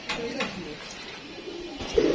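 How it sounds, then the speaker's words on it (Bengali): Racing pigeons landing during a club tournament give soft, low cooing calls close by, over a quiet outdoor backdrop with voices in the background. "দুটি কবুতর একসাথে নামতেছে"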